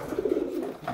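A racing pigeon coos softly in a short, close, low burbling call.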